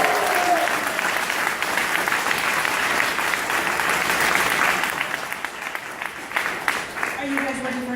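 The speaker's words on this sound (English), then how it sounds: "Give them a round of applause." A live audience at The Bell House in Brooklyn bursts into sustained applause, a dense wash of clapping that slowly thins, with voices speaking at the start and again at the end.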